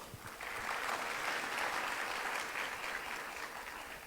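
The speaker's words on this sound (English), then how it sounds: "I think they deserve a round of applause as well." An audience at an ASEAN TVET conference claps in a broad, sustained round of applause, moderately loud and heard alone.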